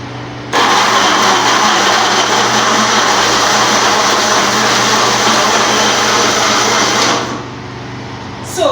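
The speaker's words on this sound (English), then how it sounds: "So now, since this is connected, we'll go ahead to blend." A battery-powered DC blender whirs steadily for about seven seconds while blending fresh tomatoes. The motor drone is loud and close, starts abruptly and cuts off sharply, with no talking.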